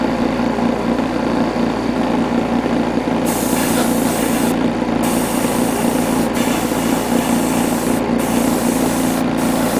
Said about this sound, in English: I'm going to begin spray painting this guy.